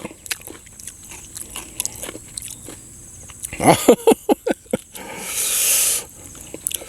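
Crunchy clams dipped in fermented fish sauce are bitten and chewed up close, a quick run of loud crisp crunches amid quieter clicks and shuffles, then a brief hiss.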